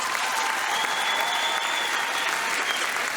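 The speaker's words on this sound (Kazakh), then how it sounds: "Және бір мәрте қол шапаттаулар қошамет болсын" Sustained applause from a film premiere audience, a dense, steady wash of many hands clapping at an even level throughout.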